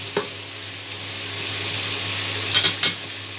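Squid with black beans and green pepper being stirred in a hot pan, a steady low sizzle running throughout, with a few sharp scraping clinks of the utensil against the pan near the end.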